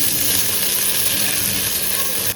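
Rice fried in ghee for jaggery payesh gives a steady, close hiss of sizzling with faint scraping from stirring, continuous and without speech.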